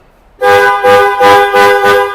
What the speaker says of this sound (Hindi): एक हॉर्न जो हमने लगाया, इसकी मैं आउटपुट सुनाना चाहूँगा आपको।